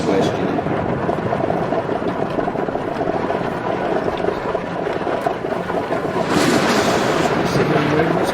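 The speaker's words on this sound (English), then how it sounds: "Listen to this lovely storm." Steady thunderstorm noise with rain and low rolling thunder fills the scene throughout, swelling louder near the end, with no clear talking.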